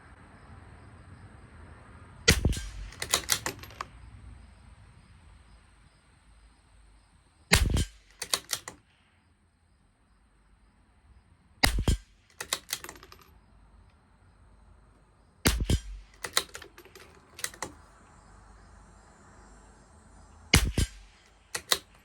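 Sharp rimfire rifle shots from a CZ 457 LRP with an IBI barrel firing Lapua Long Range ammunition at a 50-yard range, five loud, close cracks spaced several seconds apart, with faint bolt-cycling clicks after each shot and no talk.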